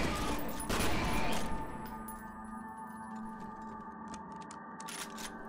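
Dense, fast bursts of shotgun slug fire in the video game Real Monsters, loud cracking shots clustered at the start, then fainter scattered pops and clatter over a humming background.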